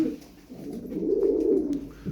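Low, soft cooing of ornamental fancy pigeons close by, a continuous throaty murmur rising and falling.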